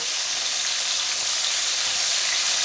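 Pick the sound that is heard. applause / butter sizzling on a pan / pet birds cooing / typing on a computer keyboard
butter sizzling on a pan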